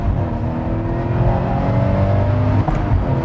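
A turbocharged Toyota GT86 with an aftermarket turbo kit and its boxer engine revving steadily, a loud, close, sustained engine drone with a small dip near the end and no talking.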